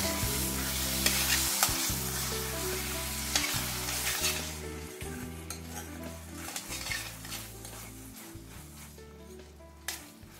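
Sweet amla chutney with melted jaggery stirred in a pan, a steady close sizzle and frying hiss under repeated scraping and clinking of a utensil against the pan, easing toward the end.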